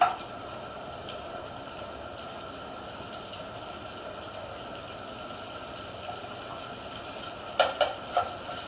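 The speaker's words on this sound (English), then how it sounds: "Stir it nicely so it will not, stick in the pan." Food is stirred in a pan on a home stove under a quiet background sizzle, and a few sharp utensil scrapes and clinks land near the end.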